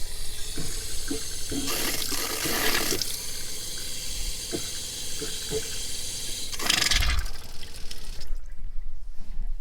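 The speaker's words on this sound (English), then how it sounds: "Now we've gotten the air out the line. The water's running fine." Steady running water from a tap on a pump-fed line after air was bled out, a continuous broadband hiss with a few surging bursts, close by, then it stops near the end.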